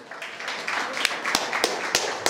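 Audience clapping at a talent show event in Orlando, a short burst of claps rising under crowd noise, with several sharp louder claps standing out near the end.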